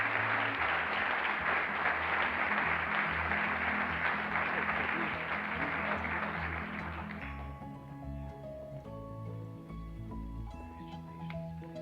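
A seated audience at a 2021 senior awards night applauds two scholarship recipients, with broad, sustained clapping filling the hall for about seven seconds before it fades out under quieter tonal sounds.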